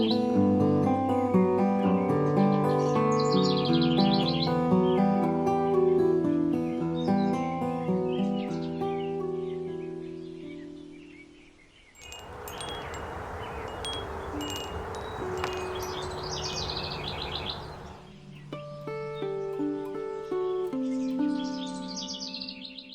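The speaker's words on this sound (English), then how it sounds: "There is something so nostalgic about different bird songs" Birds sing in a cottage garden, with layered chirps and melodic calls throughout and a stretch of soft broadband rustle in the middle.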